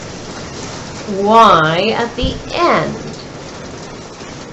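Steady rain hisses loudly during a thunderstorm, a constant wash of noise underneath a person speaking, with a brief low rumble partway through.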